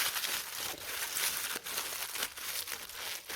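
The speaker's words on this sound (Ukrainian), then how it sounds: "І завертаємо в харчову звичайну фольгу." A paper ball is wrapped in ordinary aluminium food foil, giving close, quiet crinkling and crumpling that runs throughout in uneven bursts.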